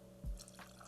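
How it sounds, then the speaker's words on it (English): Wild Turkey 101 bourbon poured into a glass for an Old Fashioned, a short soft liquid splash and trickle lasting under a second, close and quiet, with no talking. "I'm gonna grab 2 ounces or 60 mils of Wild Turkey 101 and pour them right in here"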